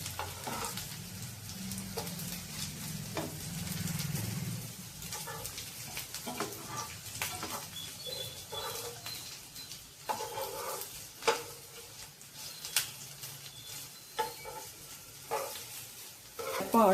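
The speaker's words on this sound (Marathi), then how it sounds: "उलटे सुलटे करून आपण आता हे छानपैकी भाजून घेणार आहोत, खमंग परतून घेणार आहोत." Stuffed okra, bharli bhendi, frying and being turned in a pan: a continuous close sizzle broken by repeated clicks and scrapes of a spatula, with a low hum early on and a faint distant dog bark.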